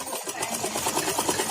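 A sewing machine stitches fabric for a churidar pajama, a close, steady mechanical whirr with fast rhythmic needle chatter running continuously after a brief start.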